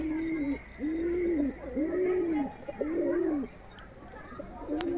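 Madras pigeons cooing up close in a loft, four or five rounded rising-and-falling coos in a regular rhythm, with faint background chatter.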